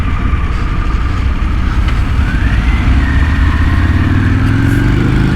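A 2023 Harley Davidson Pan America Special motorcycle cruises along with a steady, loud engine drone and constant wind rush, a passing vehicle faintly audible partway through.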